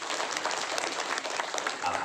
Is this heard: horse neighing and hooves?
no